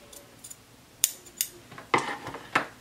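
Sharp scissors snip through fabric while a welt pocket is cut open at the corners, several crisp close-up clips in an irregular rhythm, growing louder toward the end, with no talking.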